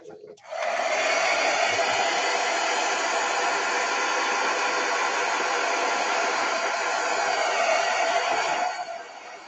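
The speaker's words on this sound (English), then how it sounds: "Come here, Mr. Heat Tool." A heat tool blows steadily and loudly for about eight seconds while drying mixed media winter gift packaging, a continuous airy whoosh that starts abruptly and cuts off near the end.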